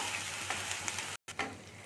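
Onion, ginger and garlic paste fries in a pan for an egg curry, a soft steady sizzle with light stirring taps, briefly cut off by a moment of silence before resuming.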